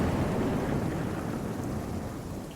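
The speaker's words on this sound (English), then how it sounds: "It's raining, thunder and lightning striking overhead" A thunderstorm with steady rain pouring down near a tavern at the edge of a grove, a dense continuous wash of rainfall with low thunder rumbling underneath throughout, no voices.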